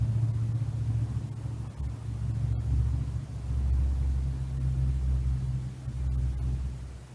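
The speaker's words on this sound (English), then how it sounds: "I think this is just like a car passing by." A car passes by outdoors, a steady low engine rumble that swells and fades over several seconds, moderately loud with no talk over it.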